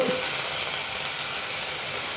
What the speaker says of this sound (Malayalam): അതിലേക്ക് ഞാൻ സവാള ഇട്ട് കൊടുത്തു